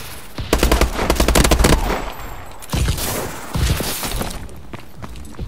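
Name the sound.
gunfire in a shooter video game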